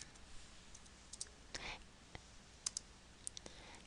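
Faint, sparse computer mouse clicks and light keyboard taps sound in a quiet room, scattered irregularly over a soft background hiss.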